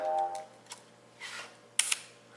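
Several quiet, crisp clicks of the small leaf shutter on a Minolta Hi-Matic 11 film camera, spaced apart, with a brief double click near the end; faint handling noise in between.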